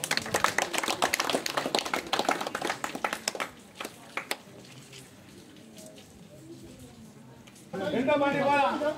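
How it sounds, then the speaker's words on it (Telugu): Audience applause at a village prize-giving ceremony, a brief burst of clapping at the close after a long stretch of announcer talk over a hall. "ఓకే, చప్పట్లు కొట్టండి."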